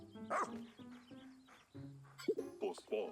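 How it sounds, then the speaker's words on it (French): A dog-like creature in the video game Pikmin 4 gives a run of short, bright yips and barks, close and clear, with a few squeaky chirps between them. "Cette créature me fait penser à un chien."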